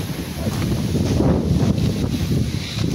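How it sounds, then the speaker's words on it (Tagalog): Strong wind buffeting the microphone outdoors in the dark, a loud continuous rumble that surges and dips for a few seconds with no talk. "It's really windy."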